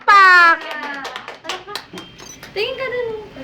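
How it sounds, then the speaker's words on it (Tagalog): A few scattered hand claps at a toddler's second birthday party, short and close, mixed in with adults and someone talking over them. "Palakpak."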